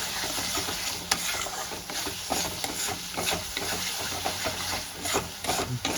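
A spice paste for paneer curry, made with ginger, cumin and green chili, is stir-fried in oil with a constant sizzle and repeated scraping, clacking strokes of a spatula against the pan.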